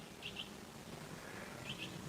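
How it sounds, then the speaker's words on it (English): Songbirds tweet in a woodland, two short paired chirps early and another pair near the end, faint against a steady hiss of background ambience. "The birds tweet and twitter"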